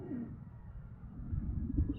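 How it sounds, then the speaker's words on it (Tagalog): Pigeons coo softly in low, murmuring bursts near a loft, a steady rumble of cooing building toward the end, no talking. "Dyan mga kalapatids."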